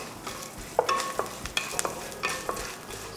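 Curry leaves frying in a pan with coconut for uppu kozhukattai, a soft steady sizzle broken by light crackles and pops as they are stirred, no talking.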